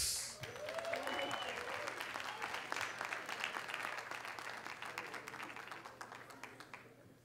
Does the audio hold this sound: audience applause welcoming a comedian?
yes